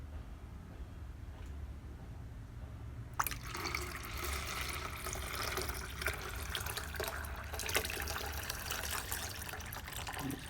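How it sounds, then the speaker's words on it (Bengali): Water poured into a tank to test an XH-M203 automatic water-level motor controller starts abruptly after a quiet stretch, then runs as a steady, loud splashing pour to the end. "দেখি এখন পানি দিচ্ছি আমি"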